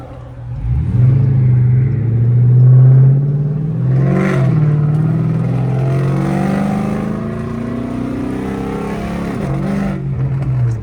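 A loud, raspy catless straight-pipe exhaust on a Chrysler 300C revs up and holds a rough, droning roar, rising and falling in pitch as the engine is pushed, close by.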